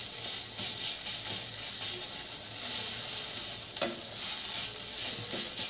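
Garlic frying in a pan on low heat for rosun bharta, stirred as it cooks, giving a strong continuous sizzle close up, broken by a sharp utensil scrape partway through, with no voice.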